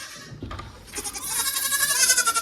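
Baby goats bleat on a farm as they come out of their stall, with several high, wavering calls overlapping and growing louder and busier toward the end, close to the listener.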